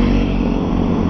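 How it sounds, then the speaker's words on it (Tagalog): Motorcycles passing along a busy street, a close, continuous engine drone with slight revving over the brief moment, no talk heard. "Ang daming motor."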